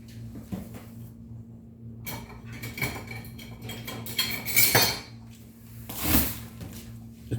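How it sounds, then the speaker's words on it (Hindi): Eggs with chilli and salt being beaten briskly for an omelette in a metal bowl, with clinking utensil strokes in irregular bursts over a steady low hum, no talk. "ऑमलेट को हमने बहुत अच्छी तरह फेंटना है।"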